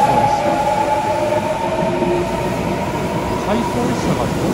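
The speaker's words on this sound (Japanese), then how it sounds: "1本目はこの回送列車、" An out-of-service Urban Liner Next train rolls through Sakuragawa station, a loud close rumble of wheels and carriages with a sustained tonal whine and faint rail clatter, running continuously the whole time.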